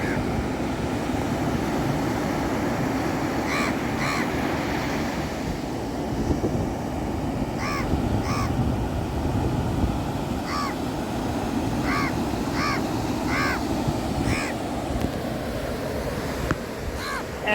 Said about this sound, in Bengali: শুধু কাকের ডাক ছাড়া কিচ্ছু শোনা যাচ্ছে না